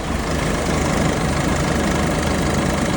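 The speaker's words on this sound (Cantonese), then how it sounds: "順便聽聽個機頭" The diesel engine of a 2020 JMC Jiangling 152-horsepower truck with about 90,000 km idles steadily up close, a dense low rumble holding even and unbroken throughout.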